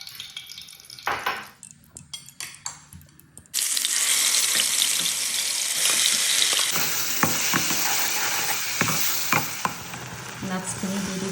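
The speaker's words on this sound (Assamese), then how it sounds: "এনেকৈ অলপ দেৰি ফ্ৰাই কৰিব" Food frying in a pan with oil, stirred now and then; faint scraping and knocks come first, then loud steady sizzling begins abruptly and runs on, with occasional clinks of a utensil.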